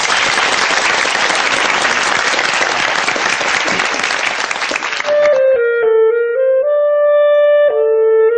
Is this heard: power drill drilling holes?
no